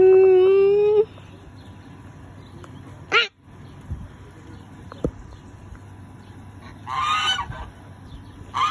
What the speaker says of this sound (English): I'm taking a video of the geese.